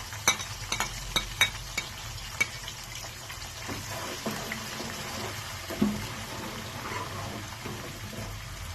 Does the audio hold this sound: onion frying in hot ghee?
yes